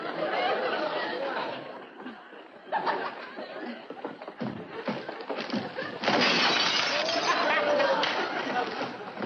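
Glass shatters inside a package tossed into a mail bin in a sitcom scene, with a crunching burst breaking through ongoing talk and audience laughter, loudest partway through and again near the end.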